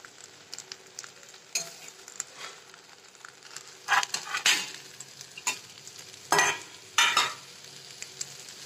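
Stuffed okra (bharli bhendi) cooks in oil in a covered pan, giving a soft, steady sizzle with occasional louder bursts and scrapes of stirring near the end, and no voices.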